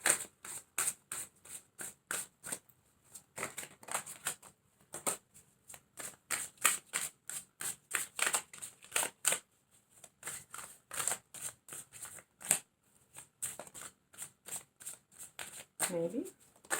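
Tarot cards shuffled in quick crisp riffles and flicks, a steady run of sharp snapping bursts close by, with brief pauses between, carrying on for the whole stretch.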